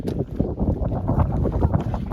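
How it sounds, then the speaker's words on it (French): Wind buffets the microphone outdoors on a hot day, a dense, low rumbling roar that stays loud and unbroken throughout, with no voices heard. "avec un coup de vent là, il y a un peu de vent"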